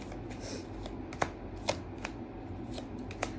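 Tarot cards are shuffled close up, a soft riffling rustle broken by several sharp snapping slaps of the deck at uneven intervals, quiet and with no speech.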